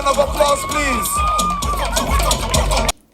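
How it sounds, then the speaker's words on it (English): A talent show crowd, with children among them, cheers and claps loudly and continuously, with whoops and babble that end abruptly. "Give yourselves a round of applause, please."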